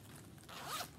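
A zipper on a Lug Transport Envelope pouch is pulled in one quick, close stroke, rising to a raspy peak near the end with no talking over it.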